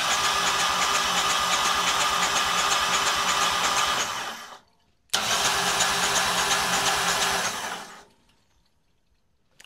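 A rebuilt engine is cranked over by the starter with its spark plugs removed, giving a loud, fast, even whirring churn for about four seconds, then a short pause, then a second burst of about three seconds before it stops.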